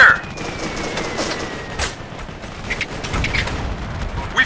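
Scattered rifle fire and distant bursts crackle through a combat firefight in Operation Flashpoint: Red River, with sharp shots at irregular intervals over a steady battlefield rumble.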